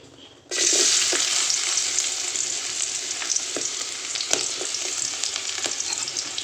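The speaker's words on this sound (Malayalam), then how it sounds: "എണ്ണ ചൂടായിട്ടുണ്ട് ഇനി നമുക്ക് ആ ഉള്ളി ഇട്ട് കൊടുക്കാം" Chopped onions drop into hot oil in a pan for a Kerala drumstick-leaf thoran, bursting into a loud, steady sizzle with occasional clinks of a spoon against the pan.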